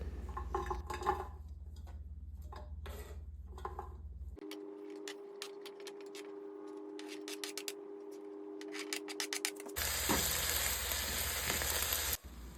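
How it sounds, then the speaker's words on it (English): Vegetables fry in extra virgin olive oil in a pot with a steady crackling sizzle, interrupted by clattering utensil sounds, a quieter stretch with a faint steady hum, then louder hissing at the end. "putting a little bit of extra virgin olive oil in the bottom of the pot, and then we're going to add our vegetables in"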